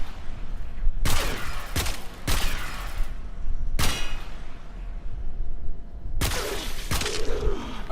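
A Supra Vandal rifle in a video game fires several separate bursts, each a harsh metallic blast with a ringing tail, spaced irregularly with quieter gaps between them.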